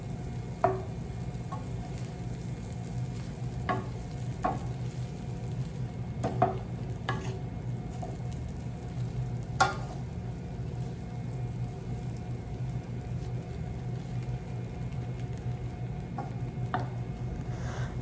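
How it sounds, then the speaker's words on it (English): Bread cubes stirred in a skillet as they toast into croutons, a steady low sizzle with soft scraping stirs and scattered light clicks, close and even throughout with no talking. "Keep your bread moving around so that it toasts evenly on both sides"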